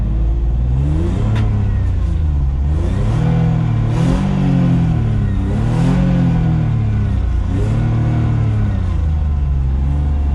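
A race car engine revs hard throughout a drift ride, its pitch rising and falling in repeated sweeping waves, loud and close from inside the cabin.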